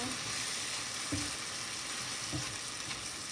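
Lima beans cooking in a pan give a steady, close sizzle and simmer, with a few brief stirring knocks near the start and again toward the end.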